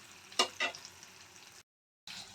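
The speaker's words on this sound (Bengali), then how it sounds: "আলুগুলো লাল লাল করে ভেজে নেব।" Potatoes frying in a pan over a raised gas flame and being stirred, for an egg and potato curry; a steady soft sizzle with two sharp stirring scrapes near the start, then a brief silent gap before the frying resumes.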